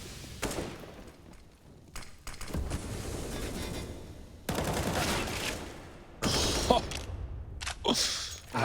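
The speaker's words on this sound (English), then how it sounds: "You've only heard that 1 AK spraying back in lobby." Rapid AK rifle spray fire in Counter-Strike: Global Offensive on the Nuke map during a pro match, heard as several loud bursts of dense gunfire broken by short pauses, with muffled game action between them.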